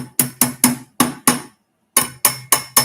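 Sharp metallic taps from a small hammer while servicing a katana: four quick strikes, a short pause, then four more in an even rhythm, close and loud.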